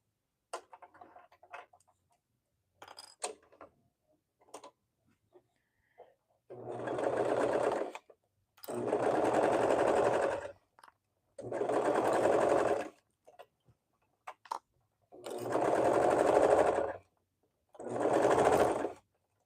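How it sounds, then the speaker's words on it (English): A serger stitches elastic onto a swimsuit in five distinct bursts of steady, rapid whirring, each lasting a couple of seconds with short pauses between, preceded by faint clicks and handling noises at close range. "my serger likes the elastic better if I have it down on the bed as opposed to on top"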